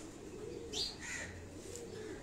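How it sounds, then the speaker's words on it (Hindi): Pigeons in a rooftop loft kept by a fancier's home in Karachi give a soft coo and a brief chirp, faint and nearby, over quiet background hum. "यहाँ उनके उड़ने वाले कबूतर हैं"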